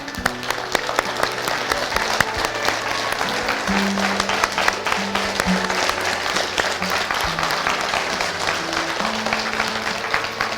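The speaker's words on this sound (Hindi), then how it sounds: "तो एक बार खड़े होकर ताली बजा दे" An audience at a business training seminar applauds, dense sustained clapping throughout at close range, with faint voices underneath.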